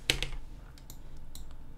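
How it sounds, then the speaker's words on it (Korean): The delete key is pressed on a computer keyboard during 3D CAD sketch work: two crisp, close plastic clicks near the start, then quieter faint taps over a soft background. "키보드에 있는 딜리트 누르시면 구석이 지어집니다"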